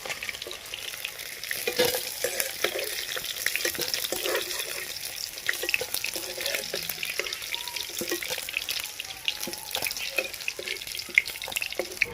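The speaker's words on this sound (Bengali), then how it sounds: "মাছগুলো এইভাবে লাল করে ভেজে নিতে হবে" Pieces of snakehead (shol) fish frying in oil, a continuous crackling sizzle with scattered pops and spatters, close and steady throughout.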